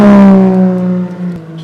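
Cars speed past on a road with a loud, steady engine roar and whir that fades slowly over under two seconds, with no voices.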